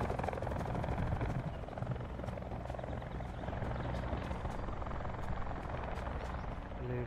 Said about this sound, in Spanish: Un helicóptero aquí que va a bajar o algo, yo creo